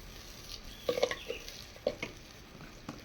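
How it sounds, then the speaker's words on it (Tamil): Chili powder and sambar powder sautéing in a pan for fish curry, a faint low sizzle broken by a few light scraping taps of a stirring spoon. "நான் ஒவ்வொன்றா தான் போட்டு வதக்கிறது"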